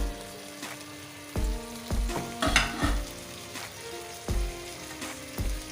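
Mongray pods being added and stirred into a sizzling spice mix for aloo mongray sabzi, with repeated sharp scrapes and clacks of a spoon against the pan over a steady frying hiss, close and fairly loud.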